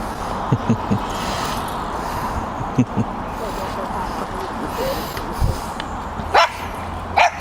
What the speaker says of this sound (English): I didn't know there was a dog in there.